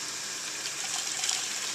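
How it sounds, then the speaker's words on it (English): Hot water from a boiling canner gushes steadily out of glass jars into a bowl, a close, continuous splashing pour lasting under two seconds with no talk. "One trick is to pour the water out"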